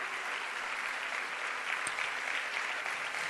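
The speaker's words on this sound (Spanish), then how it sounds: "Vamos a darle un aplauso a los actores" A lecture audience applauds the actors with steady, even hand clapping, moderately distant and continuous for the whole stretch, with no talk over it.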